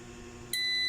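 An Arduino gas leak sensor alarm with SMS alerting switches on midway as the gas reading rises, giving a loud, steady electronic beep tone close by that holds to the end.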